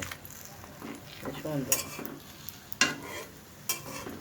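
A mughlai paratha made with eggs, flour and moong dal frying in homemade ghee, a soft sizzle broken by scraping and clinks of a spatula against the pan, fairly quiet and close.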